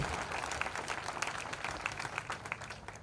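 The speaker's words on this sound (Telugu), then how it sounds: "ఒకసారి పేరెంట్స్ కోసం ఒకసారి నాకు క్లాప్స్ కొడితే వినాలని ఉంది" A college orientation audience claps for their parents, a fairly faint but steady patter of many hands with distinct individual claps throughout.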